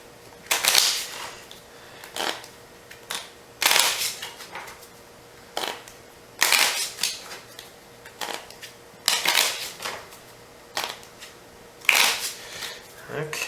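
Deck of cards for the Sylvion board game shuffled repeatedly, with crisp riffling bursts at a steady rhythm, close and loud, while a person talks intermittently.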